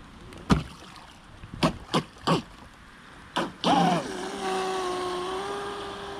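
UL-19 RC boat with a 2400KV motor running: several sharp clicks and bursts, then a rising electric whine that settles into a steady high-pitched hum, moderately close.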